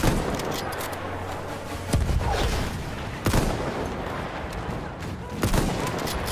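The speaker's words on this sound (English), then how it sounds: "You know I have a machine gun." Dense gunfire in the video game Battlefield 1, a continuous rattling barrage with several louder bursts standing out, heard alone throughout.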